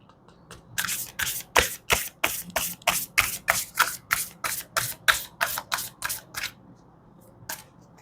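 Moonology oracle cards being shuffled by hand, a close run of about twenty crisp riffling bursts in a quick even rhythm, with a pause and one last flick at the end.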